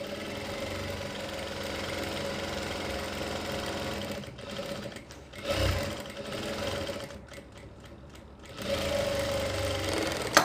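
Sewing machine stitching a folded kurti collar right along its edge, a steady close mechanical whir with brief pauses midway and near the end before resuming.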